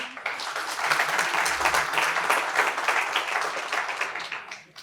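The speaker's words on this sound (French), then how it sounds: "Il mérite d'être applaudi quand même." Audience applause at the opening address of a pharmaceutical conference, many hands clapping in a lively, even patter that swells early, holds steady, then fades out at the end.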